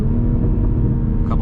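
2021 Toyota GR Supra accelerating in a short pull, deep engine rumble rising briefly with a faint exhaust pop near the end.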